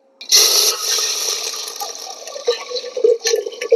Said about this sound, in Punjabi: ਆਪਾਂ ਪਹਿਲਾਂ ਇਹਨਾਂ ਨੂੰ ਧੋ ਲਾਂਗੇ ਨਲਕੇ ਤੇ ਬੈਠੀ ਧੋਣੀ ਹੈ